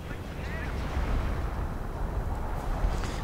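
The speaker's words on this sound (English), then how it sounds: "Artillery going in against the northern position" Video-game artillery fire pounds a northern position as a continuous, dense low rumble of distant blasts under a wash of broadband battlefield noise.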